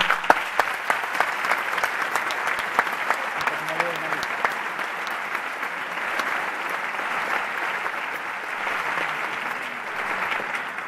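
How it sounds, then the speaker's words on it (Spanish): Sustained applause from a graduation ceremony audience for the organisers, dense steady clapping from a large crowd, loud and continuous throughout. "Se merece un gran aplauso de todos nosotros."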